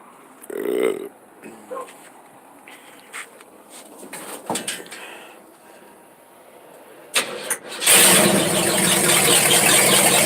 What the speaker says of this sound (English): That's cold started. Cold start early in the morning.